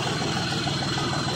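A tractor engine runs steadily close by, a loud dense rumble at a constant pace with no speech over it.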